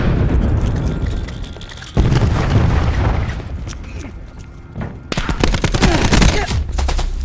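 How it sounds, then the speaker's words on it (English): Cluster grenades burst in the video game Call of Duty: Black Ops 4, giving loud rumbling booms and a crackling chain of rapid blasts, mixed with game gunfire throughout. "Cluster grenade."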